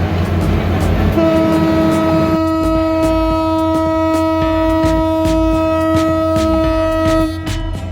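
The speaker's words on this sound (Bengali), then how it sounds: "উল্লাপাড়া রেলওয়ে স্টেশনে এক নম্বর লাইন থেকে আবারও ছেড়ে যাচ্ছে রাজশাহী অভিমুখে" Dhumketu Express, the 769 Up Dhaka–Rajshahi train hauled by a 6621-series locomotive, pulls out of Ullapara railway station from line one. A long, loud, steady horn blast sounds over a deep rumbling engine and rolling wheels, then cuts off near the end.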